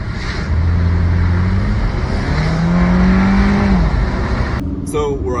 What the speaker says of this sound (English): Good guy, just driving his Lambo.